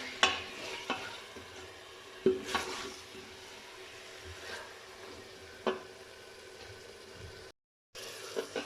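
Mutton pieces fry in a pan for turnip gosht, giving a soft steady sizzle broken by a few sharp scraping stirs. It sounds close and fairly quiet, with a brief dropout near the end and no talking.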